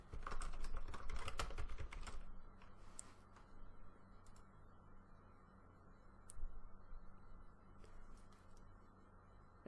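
Keys clatter on a computer keyboard as a restore point name is typed, a dense burst of quick close clicks at the start, then sparse single taps over a quiet room hum.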